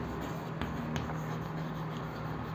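Writing on a surface with light, brief strokes and a couple of soft taps, close and fairly quiet over a steady low hum.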